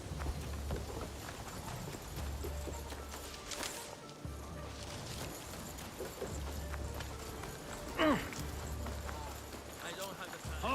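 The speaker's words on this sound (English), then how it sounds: "It's just a horse." Horse in the Assassin's Creed Shadows video game clip-clops along in repeating runs of hoofbeats, with a brief whinny near the end, fairly faint beneath game ambience and a talking voice.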